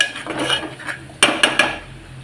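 A spoon scrapes and stirs masala with turmeric, garam masala and hyacinth beans in oil in a pan, a soft shuffling followed by three sharp metallic taps against the pan's rim, close by.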